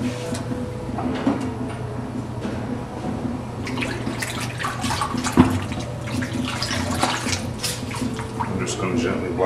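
Water runs steadily at a barber's sink during a shave, a continuous splashing hiss with faint clinks, heard up close beneath intermittent talk.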